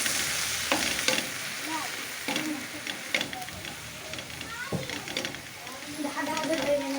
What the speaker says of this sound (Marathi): बस ह्या भाजीला परतून घ्यायचा आहे आपल्याला